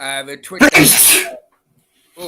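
A man breaks off his own speech with a loud, close sneeze during a late-night live stream. The sharp burst comes right after a few words, followed by a brief silence before his voice returns.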